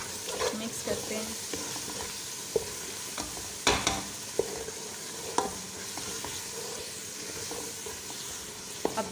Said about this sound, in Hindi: अब 2 मिनट भूनेंगे